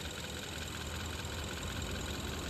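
A 2016 Kia Rio 1.6L GDI engine idles steadily up close after a timing chain replacement, a constant even hum with a faint rhythmic ticking and no voices.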